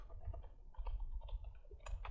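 Quick, light taps on a computer keyboard in an irregular typing burst, close and quiet, lasting about two seconds with no talking.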